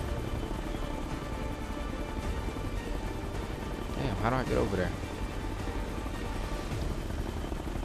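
Steady low rotor drone of a helicopter in Ghost Recon Future Soldier hums beneath someone talking, swelling briefly louder midway through.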